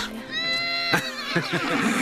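Cartoon horse giving a close, loud whinny with a wavering pitch, followed by short snorting and breathy sounds.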